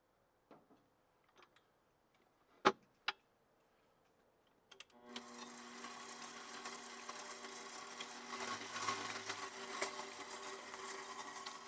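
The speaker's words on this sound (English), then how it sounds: "we're going to start whipping the egg whites on medium speed until they're foamy" Electric mixer whipping four egg whites on medium speed, starting after a few faint clicks and knocks, then a steady buzzing whir continuing close and moderately loud.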